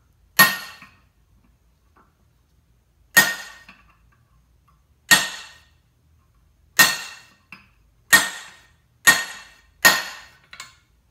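Sharp metallic taps with a jack stand pad on an LSA supercharger rotor shaft, spaced irregularly: a few isolated strikes, then quicker ones in a cluster, each ringing briefly.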